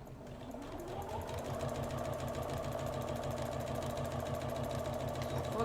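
Sewing machine stitching fabric for a lingerie holder, running at a steady fast rhythm with a mechanical hum and rapid needle chatter, close and continuous with no talking.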